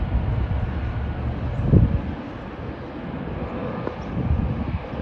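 A Southwest Airlines airliner at LAX gives a distant, steady engine rumble mixed with wind, swelling briefly before settling back to a low, even drone.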